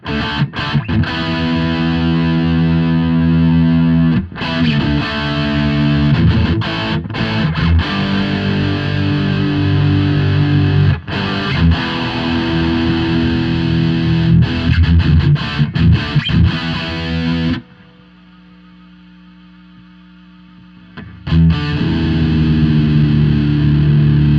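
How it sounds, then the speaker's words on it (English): Loud, heavily distorted electric guitar chords chug and sustain through a Hiwatt Crunch 150R amp head, with brief pauses and a quieter humming gap before playing resumes. "You really hear that gain and volume come up at the same time."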